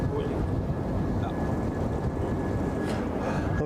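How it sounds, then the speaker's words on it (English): An airplane approaches Brussels Airport, heard as a continuous low roar mixed with wind buffeting the microphone, holding steady and fairly loud throughout. "I can hear a plane approaching"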